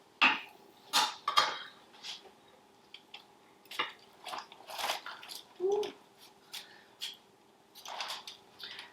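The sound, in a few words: carving into a cooked stuffed Thanksgiving turkey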